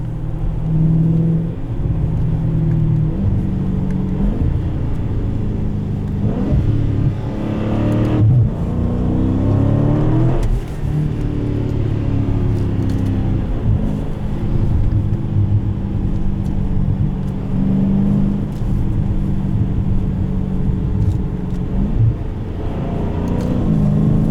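A 2017 Dodge Challenger T/A 392 with automatic transmission accelerates hard on a snowy road, its V8 rumbling loud and close with rising revs and repeated throttle swells throughout.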